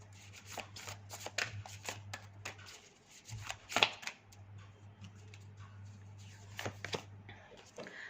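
Cards shuffled and drawn from an angel card deck make soft flicks and riffling taps in short clustered bursts, close and quiet, over a faint low hum.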